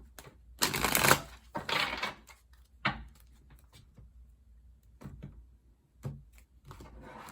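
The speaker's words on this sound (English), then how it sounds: "And last shuffle, final message for Scorpio" Several bursts of tarot card shuffling, a riffle then shorter flicks and taps spaced apart, close and fairly quiet with no talking.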